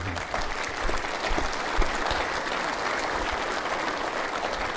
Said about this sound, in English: how about a round of applause for everyone?